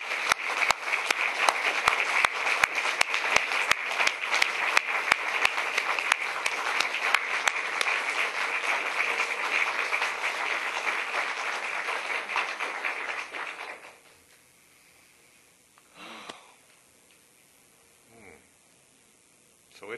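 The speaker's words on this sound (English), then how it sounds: "we'll give Charlotte and Carl a round of applause for those 40 years" Audience applause at Carmel Temple honouring Charlotte and Carl for 40 years, dense steady clapping filling the room for about fourteen seconds before cutting off to near silence with a few faint stray sounds.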